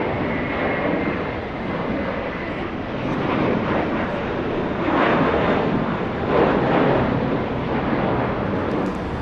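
A United Airlines airliner in Star Alliance livery rolls out after landing at Los Angeles International Airport (LAX), a broad, steady jet-engine roar heard from a distance with some wind buffeting and no talk.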